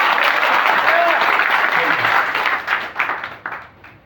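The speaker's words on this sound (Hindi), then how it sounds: "एक बार जो है दिल खोल करके ताली बजा दीजिए।" An audience applauds with dense, lively clapping that holds steady for a few seconds, then thins into scattered individual claps as it dies away.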